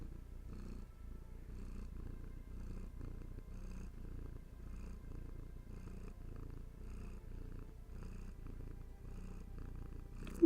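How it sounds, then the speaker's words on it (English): A cat purrs softly and steadily, a close, rhythmic low rumble repeating with each breath, without any other sounds. "Oh, you got purrs."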